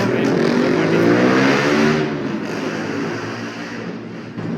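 Old KTM 250 motorcycle fitted with a modified silencer, heard on a London street: a loud engine note with revving harmonics that fades somewhat after a couple of seconds, with traffic noise behind it.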